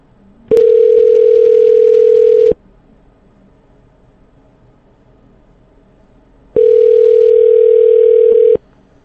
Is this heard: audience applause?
no